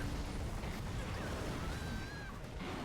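A Dust Explosion attack blast in the Monster Hunter Stories 2 video game makes a dense, continuous rumbling roar with crackling debris and a faint rising whistle, holding steady before easing slightly near the end.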